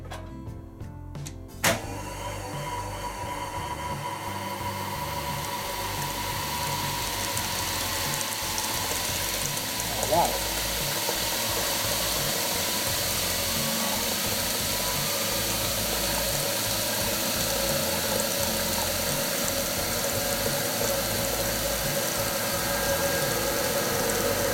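A 1970s Frigidaire spin dryer spinning a bath mat starts with a clunk, then runs up into a steady mechanical whir and rattle that holds loud and even throughout, with no talk.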